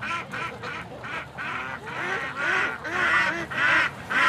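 Several ducks quack repeatedly in an irregular chorus, loud and close, with no talking over them.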